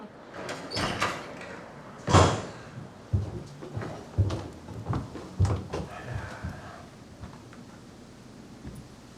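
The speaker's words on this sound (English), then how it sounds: "Doors open." Doors opening in a house, a sequence of wooden knocks, thuds and sliding clatter with a loud bang early on, then softer scattered bumps fading out.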